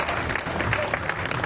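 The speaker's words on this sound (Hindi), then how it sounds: "जरा तालियों को घनीभूत करना" Sustained applause from an audience at an all-India Hindi comedy poetry gathering, a dense steady patter of many hands clapping close by with no talk over it.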